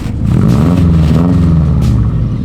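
A loud car engine revs and rumbles up close on a snowy night, set to rear-wheel drive in race mode, a deep steady roar holding strong for a couple of seconds with no talking.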